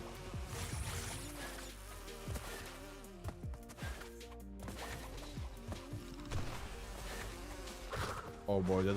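Bees buzzing close by in a Crash Bandicoot level, a wavering insect drone over busy game music and sound effects, with bursts of action noise near the end.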